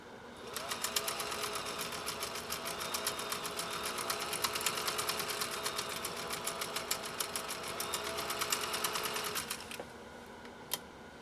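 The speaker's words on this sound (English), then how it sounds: "you should really see this machine working as it's laying down a stitch" A 1930s GE Model A sewing machine stitches at a fine 25 to 30 stitches per inch, a fast, steady, close mechanical whir with an even rapid tick that runs for about nine seconds, then stops, followed by a couple of isolated clicks.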